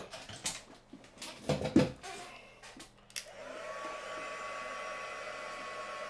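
A heat gun runs steadily to melt embossing powder in a craft demo, a continuous near blowing whoosh that starts partway through after some handling clatter.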